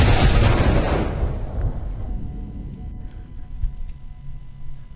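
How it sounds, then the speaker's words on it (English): Video game gunfire: a loud burst of shots and booms at the start that fades into a softer rumble with a few distant pops. "What is that guy shooting at?"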